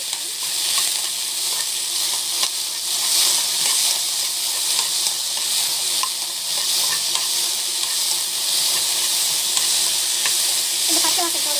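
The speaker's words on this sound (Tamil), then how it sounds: "ஆயில் போட்டுட்டு நல்லா வந்து கொஞ்ச நேரம் வந்து வதக்கணும்" Okra (ladies' finger) stir-fried in oil in a pan: a steady, close sizzle with scraping spatula strokes and small crackles, running evenly and loud throughout.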